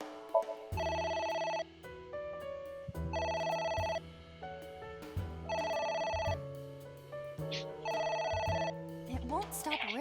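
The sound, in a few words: telephone ringing in video game AI: The Somnium Files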